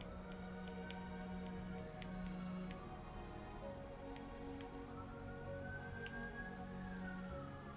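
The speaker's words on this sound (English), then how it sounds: "police sirens in the background, so ignore that, please" Police sirens wailing somewhere in the distance, faint rising and falling tones drifting behind a quiet, humming indoor room with light ticking sounds.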